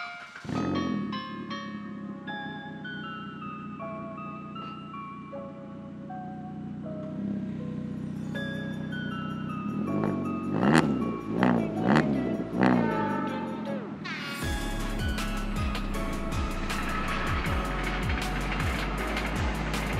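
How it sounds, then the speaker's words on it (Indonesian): A 2013 Suzuki Swift with a full 4-2-1 exhaust system and no resonator revs and accelerates with rising and falling engine tones, ending in a louder, harsher drone close to the exhaust. "Ini suara knalpotnya tadi barusan kayak gitu."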